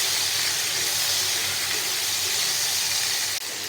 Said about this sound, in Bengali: এগুলো দিয়ে একটু ভেজে নেব।